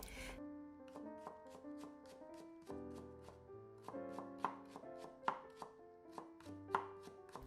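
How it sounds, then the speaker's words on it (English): A knife cuts stacked thin carrot slices into julienne strips on a board, giving a steady run of quick, crisp taps set against continuous background music. "Stack a few slices at a time and cut them into julienne strips."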